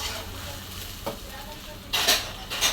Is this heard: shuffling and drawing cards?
no